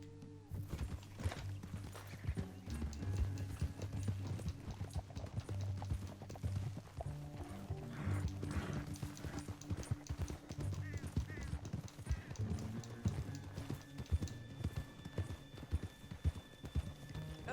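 Horse hooves clip-clopping in the video game Red Dead Redemption 2, a steady stream of hoofbeats under a dense bed of game music and ambience, with speech and a possible whinny mixed in.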